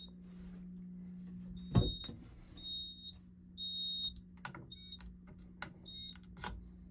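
A fire alarm triggered from a pull station sounds in repeated high electronic beeps with a steady hum underneath, plus a few sharp clicks and knocks along the way.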